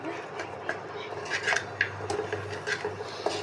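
Garlic sauce pasta being stirred in a pan, with irregular scraping and clinking of a utensil against the pan over a low background hum, moderately close and with no voices.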